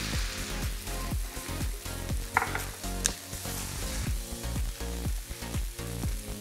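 Beef in a thickening sauce sizzles in a single pan alongside broccoli, a steady close crackle broken by rhythmic stirring scrapes, with no voices.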